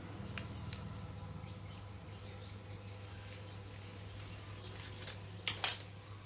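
Scissors cut cloth in a tailoring class: a few faint snips early on, then two sharper, closer snips near the end, all over a steady low hum with no talking.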